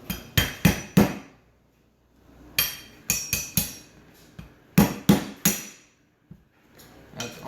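A crankshaft bearing being tapped onto the shaft of a Honda Elite AF16 case with a cut length of PVC pipe, giving sharp knocks in quick clusters of three or four, close and crisp, with pauses between.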